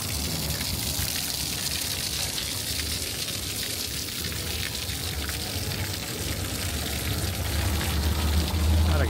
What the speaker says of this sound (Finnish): ja siinä on taas suihkulähde.